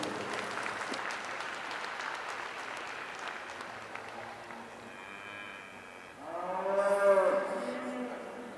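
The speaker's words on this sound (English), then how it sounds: "Let's give all these exhibitors a round of applause" Applause for exhibitors at a county fair livestock heifer show fills the first half as a steady wash of clapping, thinning out before cattle bellow loudly near the end.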